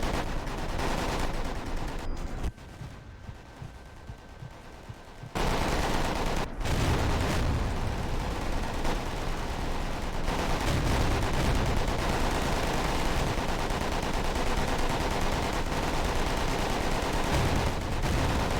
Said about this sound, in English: A lot of machine gun fire.